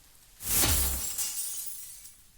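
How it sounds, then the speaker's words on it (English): Glass pane overhead shattering loudly in a single burst, followed by a trailing shower of tinkling shards raining down into a room, fading after about two seconds. "the glass above suddenly shatters and shards start to rain down into the room"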